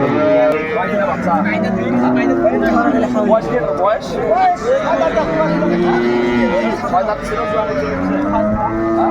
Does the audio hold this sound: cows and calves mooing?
yes